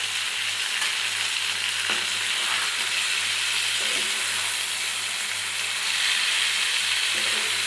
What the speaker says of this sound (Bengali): এবার আমি দিয়ে দিচ্ছি ভেজে রাখা পটলগুলো। দিয়ে দেবো ভেজে রাখা চিংড়ি মাছগুলো।